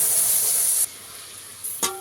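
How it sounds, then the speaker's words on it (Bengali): Boiled milk poured into hot caramel in a steel bowl gives a loud steady hiss and sizzle that cuts off abruptly, followed by a quieter lull and a brief metallic clink near the end. "এইবারে আমি ফুটিয়ে রাখা দুধটাকে দিয়ে দেবো এর মধ্যে।"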